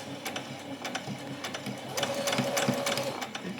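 A sewing machine runs a straight seam on a child's dress, its rapid mechanical stitching steady and fairly close, with a few brief handling clicks and rustles around it.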